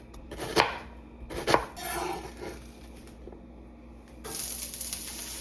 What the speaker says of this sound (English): So I've got some onion, celery, and carrot here that I'm chopping up and tossing into that pan with oil to saute.